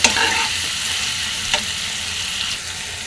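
Beetroot and red cabbage stir-frying in a pan with ginger-garlic paste, a loud, close, steady sizzle broken by a few spatula scrapes and stirring bursts.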